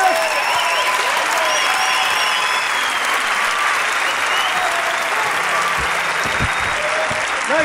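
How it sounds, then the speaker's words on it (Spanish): A live comedy show audience breaks into loud, sustained applause, dense clapping filling the room for several seconds with a few faint voices underneath. "Fuerte aplauso para ellos."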